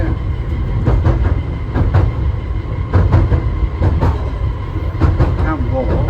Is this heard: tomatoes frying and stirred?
no